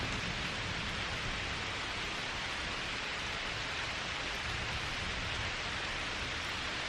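Steady rain falls during a thunderstorm at a wilderness shelter camp, a dense continuous hiss of drops on surfaces close by, unbroken and even for the whole stretch with no voices.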